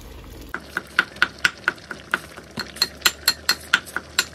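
Frying taro curry sizzles in a pan as water goes in, under a run of sharp, regular clinks from a utensil striking the pot, close and distinct, with no voices.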